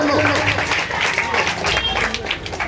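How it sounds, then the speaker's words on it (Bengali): Audience applause at a prize-giving ceremony for a drawing competition, a dense burst of clapping from a crowd lasting a few seconds, with voices babbling underneath. "একটু করতালি হোক এদের জন্য"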